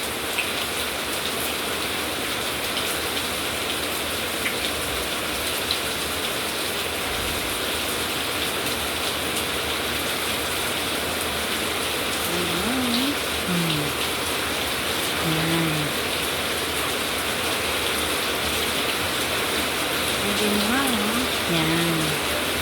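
Heavy rain falls in a constant, close, roaring wash from start to finish, with a few faint tonal chirps rising briefly above it later on.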